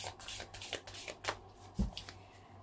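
Brief, quiet riffling of tarot cards being shuffled by hand, a few quick papery bursts with a soft tap near the end.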